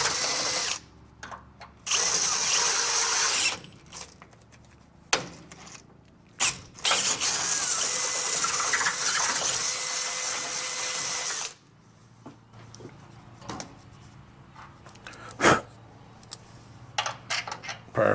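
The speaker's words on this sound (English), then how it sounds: "I'm gonna have to drill these holes out for these bolts." A power drill whines in several bursts, drilling out bolt holes for motor mounts on a 1957 Chevrolet Bel Air, spinning up to a high pitch and stopping, with clicks and handling noises between runs.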